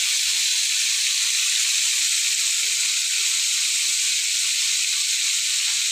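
Small fish frying in a pan of hot oil, a steady bright sizzle and hiss that runs unbroken and fairly close, with no talking.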